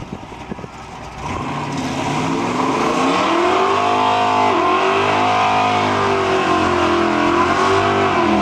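A 1970 Mustang Mach 1 and a 1966 Fairlane drag racing at Cayuga, Ontario, quiet idling before engines roar up into loud, sustained full-throttle acceleration with rising and shifting engine tones, no talking.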